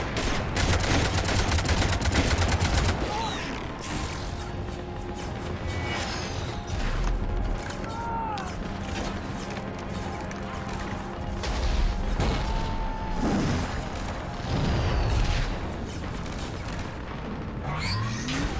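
Cannon blasts and gunfire in the video game Mass Effect 3: a dense volley of rapid shots opens, followed by repeated heavy booms, crashes and scattered fire continuing loudly throughout a chaotic battle.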